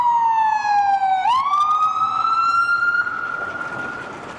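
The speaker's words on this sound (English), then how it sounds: "One of my least favorite things about living in the USA is the loud ass sirens." A loud emergency vehicle siren wails close by in downtown Seattle, its pitch sweeping down and then rising into a sustained high tone over road noise.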